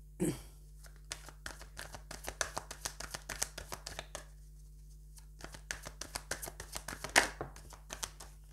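Tarot cards shuffled for a reading: a steady run of crisp, close papery riffles and flicks repeating through the clip, with a brief pause in the middle, over a low constant hum.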